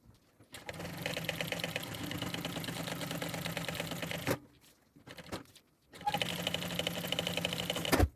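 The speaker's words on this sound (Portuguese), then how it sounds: "Agora eu vou costurar os 4 cantos dessa alça." A sewing machine stitches the corners of a fabric bag strap in two steady whirring bursts, broken by a short gap with a few brief clicks, close and loud with no talking.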